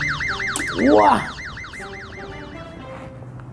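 A toy police car's electronic siren wails in a fast repeating up-and-down pattern, steady and close, while a child's brief exclamation and a swooping toy sound cut in near the start.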